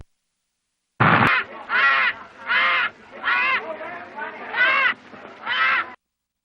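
A crow caws harshly about six times in a steady sequence, each call loud, close and roughly half a second long with short gaps between, in a film scene.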